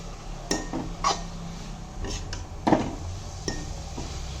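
Coconut and sugar fry in a pan while a spatula scrapes and clinks against the metal in a few separate strokes over a low background hiss.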